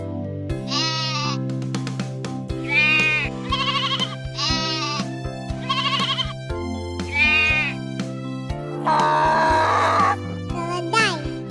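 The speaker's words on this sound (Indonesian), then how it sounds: "Domba." Sheep bleat repeatedly, about six loud, wavering calls spaced a second or two apart, close and clear over a steady low background.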